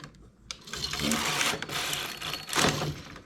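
Domestic knitting machine carriage sliding across the needle bed while knitting rows of vertical stripes, a steady close mechanical whirring and rubbing that swells in two long passes with a brief pause between.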